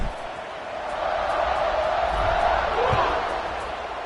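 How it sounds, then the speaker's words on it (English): A crowd at a Pittsburgh–Clemson football game buzzes after a score: a broad, steady murmur of many voices with a couple of faint thuds in the middle. "this crowd is buzzing after that last score."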